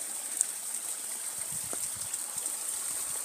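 River water flows in a low, continuous rushing wash, steady and even throughout with no voices over it.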